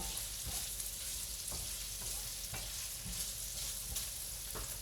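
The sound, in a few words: beef or chicken frying and being stirred in a pan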